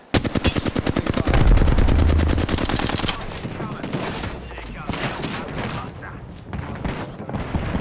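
Rapid automatic gunfire in Apex Legends, a fast even burst of loud, close shots at the start, then scattered shots and game noise, with some speech mixed in.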